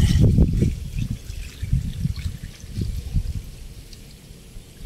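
Rainwater pours and splashes steadily into a bucket, a continuous close trickling with no voices.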